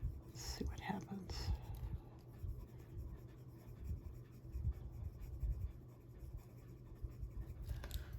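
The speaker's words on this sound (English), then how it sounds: "The pencil definitely glides on top of the gelatos" Colored pencil gliding over gelato crayon layers on a paper coloring page, a soft, faint, continuous scratchy rasp with gentle stroke rhythm, recorded close.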